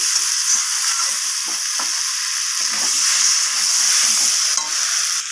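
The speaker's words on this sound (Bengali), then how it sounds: "কাঁচা লঙ্কাটা দেওয়ার পর আমি আবারও কষিয়ে নিচ্ছি।" Egg and cauliflower curry sautéed with green chillies in a pan gives a loud, steady, close sizzle with faint stirring scrapes beneath it and no voices.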